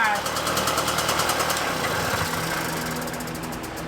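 Puch Maxi moped engine running and idling, a loud continuous buzzing putter that settles into a steadier lower idle, close by with a voice briefly over it.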